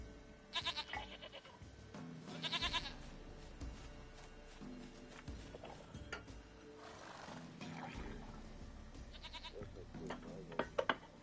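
A goat in a video game bleats several times in short wavering calls, fairly faint, mixed with voices talking and ambient game sound.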